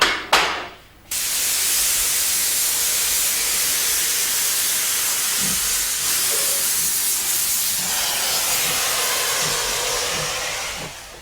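Steam locomotive H2 on a restored tourist run out of Hobart, Tasmania, releases a loud, continuous broadband steam hiss after a brief opening burst and short lull, with faint low thumps beneath.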